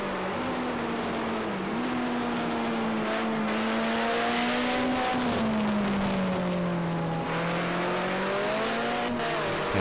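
A Mitsubishi Lancer Evolution VI SVA race car engine in Project Cars 2 at the Oschersleben circuit drones loud and steady on a final lap, its pitch dipping and climbing with gear changes and throttle.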